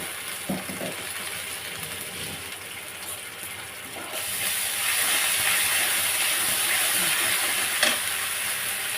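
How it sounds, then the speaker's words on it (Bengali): Cumin and chilli hit a hot pan for a Bengali fish curry and sizzle loudly. The frying grows into a steady hiss halfway through, with faint stirring scrapes and no talk. "এবারে এর মধ্যে দিলাম জিরে আর লঙ্কা এটা ভালো করে কষে নেব"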